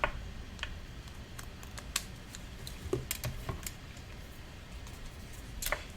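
Card paper being trimmed for a stacked flower card front: sparse, light clicks and ticks of the cut, fairly close and quiet, with a few sharper snaps and no talking.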